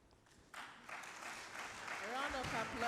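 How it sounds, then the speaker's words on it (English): Applause from the audience at a land surveying seminar breaks out after a brief quiet start, faint and distant, swelling slowly as a voice begins speaking over it near the end. "A round of applause."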